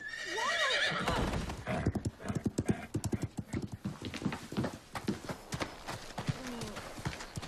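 A horse whinnies loudly at the start, then hooves clip-clop in a quick, steady rhythm close by.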